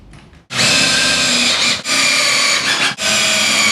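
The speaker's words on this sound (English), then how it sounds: "Now we install our 3/4 subfloor. And secure with deck screws." A power drill drives deck screws into a 3/4 subfloor board: three loud, sustained whirring runs, each with a brief dip as the screw seats.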